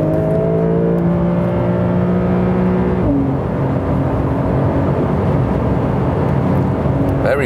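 A Porsche 911 of the 992 generation with a flat-six engine, driven fast, gives a steady loud engine drone with clear harmonic tones that drop in pitch at a gear change, then carry on under road and wind noise.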